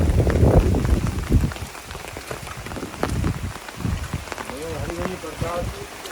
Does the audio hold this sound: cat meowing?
no